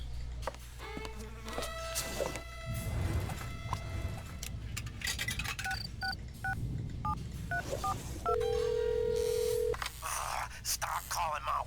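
Telephone dialing in the Mystery Case Files 13th Skull video game: a series of quick keypad tones, then a long ringing tone, under game music and a voice talking.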